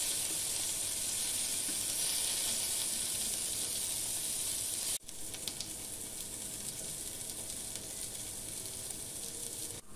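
Paneer pieces frying in a pan give a steady, loud hiss and sizzle that dips briefly at the midpoint as the pieces are flipped, then carries on slightly quieter with small crackles.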